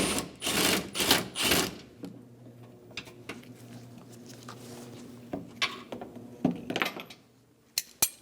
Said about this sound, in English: Using a 12mm socket, we're going to remove the bottom bolts for the radiator.